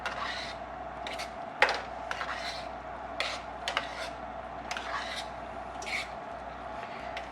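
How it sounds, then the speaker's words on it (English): A spoon stirs penne pasta and potatoes in a pot, with repeated scraping and clinking strokes against the metal at an uneven rhythm, close and moderately loud. "And we'll start to stir this all together."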